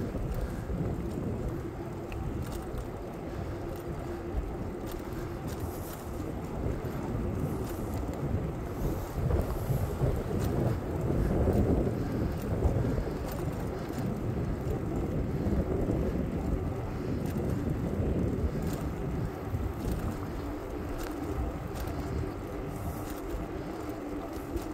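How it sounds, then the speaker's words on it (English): Headwind buffeting the microphone on a Sunday afternoon bike ride past coastal bluffs, a continuous loud rumbling roar that swells and fades throughout, with no talk. "I am so glad we decided to come right into the wind this way first."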